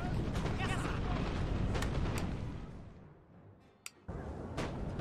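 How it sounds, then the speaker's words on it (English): Booming bursts of cannon fire in the game Napoleon: Total War rumble over a busy battle soundscape, dropping to a lull before a sharp pop and renewed noise. "Whilst my cannons keep firing."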